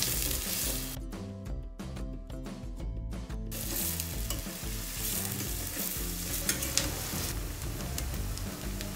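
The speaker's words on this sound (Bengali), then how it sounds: "কড়াইয়ে দিয়ে তেল দিয়ে নাড়লাম।" Chopped onions sizzle loudly in hot oil in a wok while being stirred, with a dense steady frying crackle and rhythmic scraping strokes throughout, close and prominent, without any talk.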